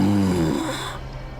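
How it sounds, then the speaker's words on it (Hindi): Heavy breathing sound effect in a horror story, a close, rasping, snore-like inhale with a low droning tone, then a hissing exhale that tapers off, alone with no talk. "तभी उनको किसी के सांस लेने की आवाज सुनाई दी"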